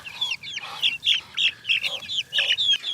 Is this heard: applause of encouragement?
no